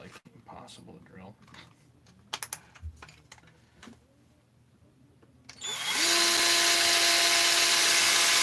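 A power drill starts up after clicks and handling noises, then runs loud and steady for the last few seconds while working on a Husqvarna 350 chainsaw part.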